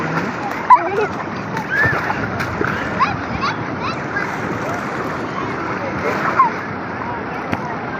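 Children swimming and playing in water at a Konaseema village during the Bhogi festival, with scattered splashes over steady outdoor noise and people talking throughout.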